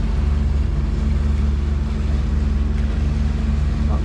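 Catamaran motor sailing at about 5.7 knots in light wind, its engine giving a steady, close low drone with water and wind noise layered over it throughout.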